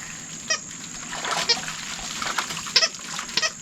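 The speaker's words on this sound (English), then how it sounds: "Stir it up to dissolve the citric acid a little bit." Hydrogen peroxide and citric acid solution sloshes and splashes while stirred inside a copper still, with irregular liquid swishes and small splatters over a faint steady hiss.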